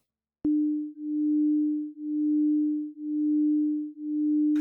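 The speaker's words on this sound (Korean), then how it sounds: "이 300Hz와 301Hz의 사인파를 함께 연주하면 어떤 현상이 일어날까요?" Two pure sine tones at 300 Hz and 301 Hz play together, a steady mid-pitched hum that swells and fades once per second in slow, regular beats, clean and alone after a sharp click at the start.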